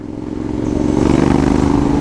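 2021 Honda X-ADV 750 motorcycle engine accelerating on a ride, a loud, close, steady drone that rises in pitch and grows louder over two seconds.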